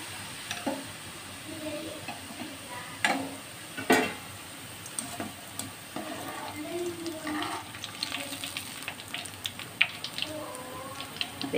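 Boondi batter frying in hot oil, a faint steady sizzle with scattered crackles and occasional clinks of a ladle against the pan.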